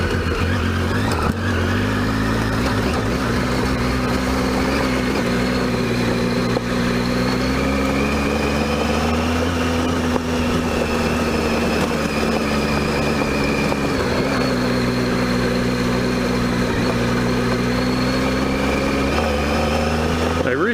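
A five-year-old Triumph Tiger 800 motorcycle with a weeping shifter shaft seal rides along a gravel road, its engine giving a steady droning hum that rises and falls gently, with constant wind and road noise.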